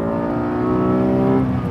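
A Honda NSX mid-engined sports car accelerates hard out of a corner, its engine note a loud, steady, rising drone heard from inside the cabin with no talking.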